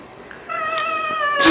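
A person imitates a cat's meow with a single drawn-out, wavering, nasal cry that rises in strength toward its end.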